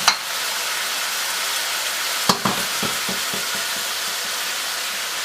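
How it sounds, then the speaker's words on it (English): Chopped celery pieces land in a hot pan of cooking food, setting off a sharp crackle and a burst of sizzling, followed by a steady close frying hiss with light stirring clicks and scrapes. "I'm going to throw in these chopped celery pieces."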